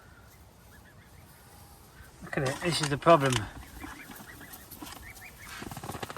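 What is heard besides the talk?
duck on a fishing lake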